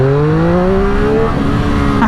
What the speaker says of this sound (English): it is just the exhaust note, the sound from the engine